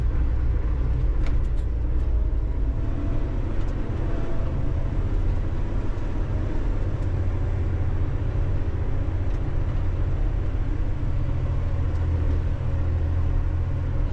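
A 30-ton dump truck's diesel engine labors steadily up a long hill, a deep continuous rumbling drone heard from inside the cab, loud and unbroken throughout.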